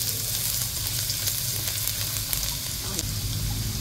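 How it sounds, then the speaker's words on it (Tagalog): Garlic sizzles in a pan over a steady, loud frying hiss with occasional crackles, close by and continuous. "Lalagay na po natin yung bawang."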